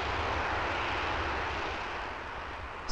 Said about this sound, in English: The takeoff, mere routine, afterburner turned on